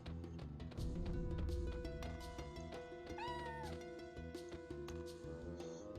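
A cat meows once in the video game Chrono Cross, a short rising-and-falling cry set against a busy in-game music track with rhythmic percussion, no voices heard.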